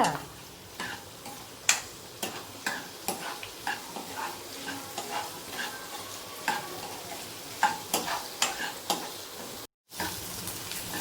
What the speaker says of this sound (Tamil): வெங்காயம் இப்போ நல்லா வதங்கிருச்சு.